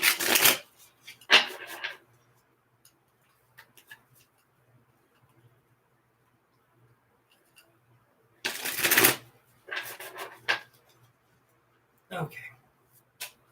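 Tarot cards being shuffled, with a couple of short riffling bursts near the start, a longer rustling shuffle in the middle and a final brief flurry, separated by quiet pauses.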